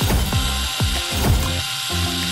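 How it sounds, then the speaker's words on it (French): Electric screwdriver driving screws into wood, giving several short whirring bursts with pitch dropping as each screw bites, close and loud, with a brief pause before a final longer run. "Plaçons les clous dans le bois et vissons-les avec la visseuse."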